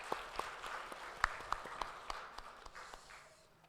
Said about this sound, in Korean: 우리 감사하다고 박수하겠습니다.